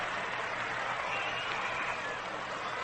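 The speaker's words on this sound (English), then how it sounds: "And the crowd is a bit noisy right now." A baseball stadium crowd at the 1941 All-Star Game makes a steady, dense roar and murmur that holds at an even level throughout, with no single voice standing out.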